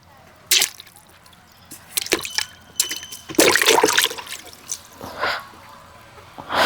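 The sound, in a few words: seven cricket balls dropped into water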